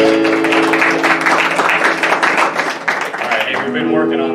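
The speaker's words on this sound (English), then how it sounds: "we need to clap" Children clap their hands together in a steady, rhythmic run throughout, mixed with voices and tonal background sound.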